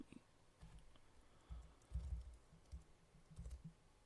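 Someone types a SUM formula into an Excel spreadsheet cell on a computer keyboard, producing soft, irregular bursts of muffled key presses at a quiet level, with no talking.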